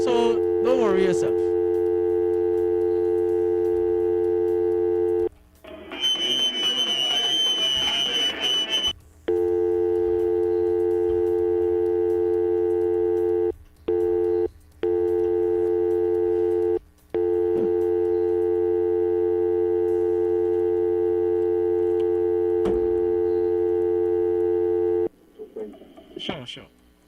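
A telephone busy signal on a radio call-in line repeats its steady on-off tone for most of the stretch, broken by short gaps, with a brief burst of other noise early on.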